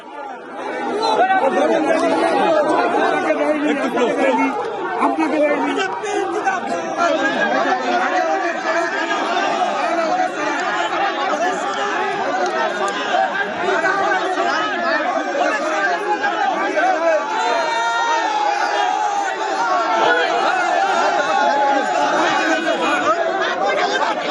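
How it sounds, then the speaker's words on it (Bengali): A large crowd at a tense BJP-TMC face-off in Balagarh over Form 7 submissions produces loud, continuous chatter with many overlapping voices shouting, sustained without a break. "দলের মধ্যে তুমুল স্লোগান"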